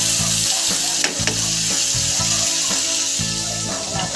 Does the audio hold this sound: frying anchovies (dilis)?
yes